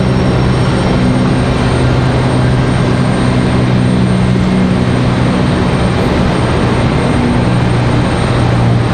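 A big airliner at Raleigh-Durham International Airport makes a loud, steady engine roar and whine that holds throughout, with no voices over it.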